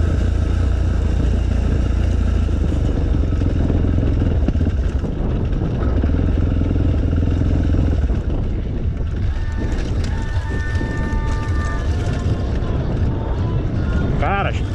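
Off-road trail motorcycles ride along a dirt trail during a group trail event, engines droning loudly and continuously with wind buffeting the microphone, and a rising whine toward the end.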